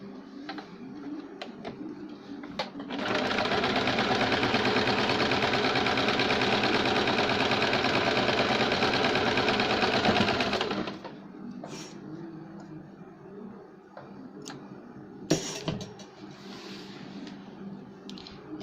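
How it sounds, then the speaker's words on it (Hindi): A sewing machine runs a double line of stitching on a cold-shoulder sleeve, a fast rhythmic rattling burst lasting about eight seconds, with quieter handling clicks before and after. "डबल सिलाई लगाएंगे हम।"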